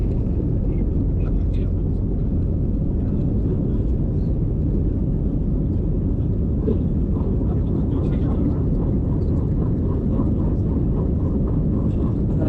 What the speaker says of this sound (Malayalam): ടേക്ക് ഓഫിന് വേണ്ടിയിട്ട് പ്രിപ്പറേഷനാണ് ഓക്കെ ടേക്ക് ഓഫ് ആയി